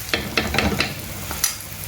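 A spice paste is sautéed in coconut oil for a Kerala kalanchi fish curry: quick scraping stirs sound against the pan in a rhythmic series over a soft, continuous sizzle.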